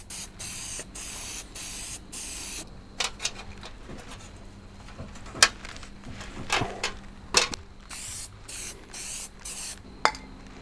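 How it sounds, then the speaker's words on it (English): A spray can lays down a light coat of paint in repeated short hissing bursts of varying length, close by, with quieter gaps and small clicks between passes. "you're supposed to get a sort of a light coat to start with and then build up from there"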